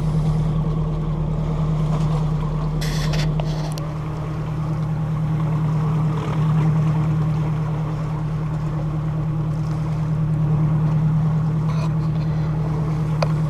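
A sailing boat motors across open sea at about 3.5 knots on a Hawaii-to-Alaska passage, its engine a steady, loud low drone that hums on unbroken with faint wash and creaks above.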